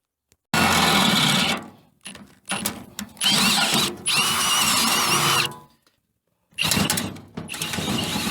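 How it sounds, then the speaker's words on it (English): A power drill bores holes into a wagon in several loud, close bursts of whirring and grinding, each lasting a second or two and separated by short pauses, with no talking. "I'm gonna drill 2 holes, one on each side, put a plate there"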